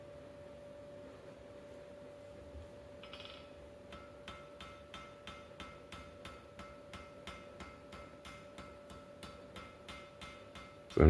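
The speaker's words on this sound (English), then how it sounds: "So I'm trying to have the very edge of the leaf at the edge of the anvil where I'm hammering." Blacksmith hammering a steel leaf at the edge of an anvil, a steady series of sharp metallic strikes about two per second over a constant background hum, close and moderately loud.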